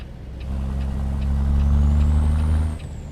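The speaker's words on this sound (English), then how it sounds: "Jakes, yeah, they are loud" A Peterbilt truck's Jake engine brake in American Truck Simulator: a loud, steady low rumble held for about two seconds, then cutting off near the end, with faint higher engine tones above it.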